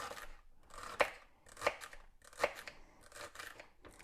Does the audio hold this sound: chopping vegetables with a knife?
yes